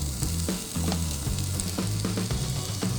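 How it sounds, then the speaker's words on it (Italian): Strips of speck sizzle and spit steadily in a pan that was just used for pumpkin. Close, continuous frying crackle runs throughout, with light clatters as the meat is stirred. "E nella stessa padella della zucca verso lo speck."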